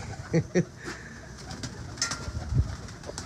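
Teddy pigeons cooing on a rooftop in Wassanpura, with two soft coo bursts early and scattered faint bird calls over a low background hum.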